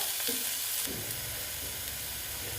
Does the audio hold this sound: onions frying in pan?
yes